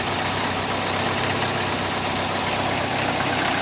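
A 2000 Toyota Celica GT 1.8 liter VVT-i engine, affected by a low oil condition, idles with a steady, dense mechanical clatter and a constant hum, unbroken and fairly close.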